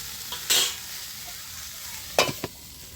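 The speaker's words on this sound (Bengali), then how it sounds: "সবজিগুলো এবার একটু আমি ভালো করে নেড়ে চেড়ে ঢাকনা দিয়ে দেবো।" Mixed vegetables with pumpkin stirred in a pan, with a few sharp spatula scrapes and clatters over a quiet background sizzle, two separated bursts of stirring.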